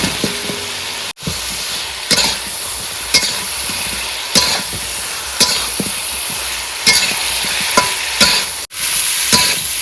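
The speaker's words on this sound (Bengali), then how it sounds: "তো মাছ আর আলুটা মশলার সঙ্গে ভালো করে কষিয়ে নিয়েছি" Fried fish and potatoes are stir-fried with spices in a pan, a loud continuous sizzle broken by regular scraping strokes of a spatula, close up and without talk.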